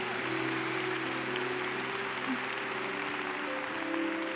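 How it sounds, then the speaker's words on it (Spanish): Continuous clapping from a standing church congregation during a Spanish-language worship service at a conference, a steady wash of applause with sustained musical tones running underneath. "Denle un aplauso, Señor"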